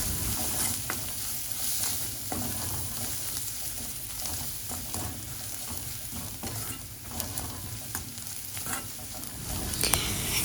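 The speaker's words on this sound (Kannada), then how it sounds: "ಇದನ್ನು ಚೆನ್ನಾಗಿ ಮಿಕ್ಸ್ ಮಾಡಿ ಹಸಿ ವಾಸನೆ ಹೋಗೋ ತನಕ ಚೆನ್ನಾಗಿ ಮಿಕ್ಸ್ ಮಾಡೋಣ" Spices of turmeric, chili and coriander powder being stirred into a frying coconut egg curry masala: a continuous sizzle with repeated scraping and clinking strokes of a spoon against the pan, close and unbroken by speech.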